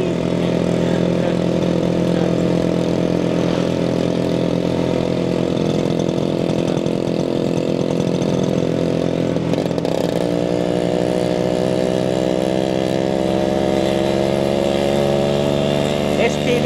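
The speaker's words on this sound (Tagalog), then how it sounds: "Ay, motor ni Carlo" A Kawasaki STD motorcycle's steady, rattling engine idles nearby without a break, its pitch shifting slightly partway through.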